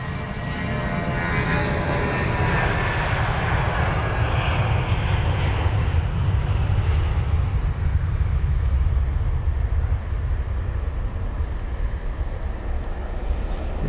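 Airbus A320 jet at London Heathrow, a loud, close engine roar that swells and holds steady for the whole stretch with no talk.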